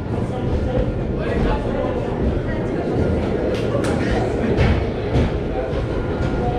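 Wodan Timburcoaster wooden roller coaster train at Europa Park, a steady loud rumble and rattle of the train running along the track, heard up close with people talking over it.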